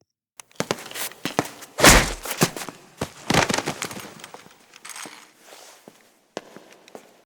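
Foley footsteps and gun handling effects for a post-production mix. Sharp thuds, clicks and scuffs land irregularly, with a heavy impact cluster near the start and lighter taps trailing off, and no talk over them.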